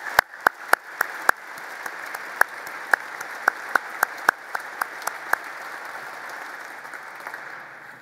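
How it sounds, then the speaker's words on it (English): Sparse audience applause for a defense delegation of military commanders and Joint Chiefs: a few sharp, distinct claps stand out over a thinner background patter that fades toward the end. "Let's give them all a round of applause."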